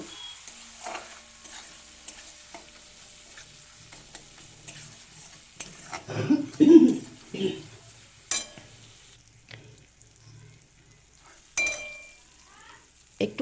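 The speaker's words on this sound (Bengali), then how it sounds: "এবার সমস্ত কিছু একসাথে ভালো করে কষিয়ে নেব" Spices with cumin and coriander powder sautéing in a pan, a quiet low sizzle broken by a few louder scrapes and clinks of the spoon against the pan, close and without speech.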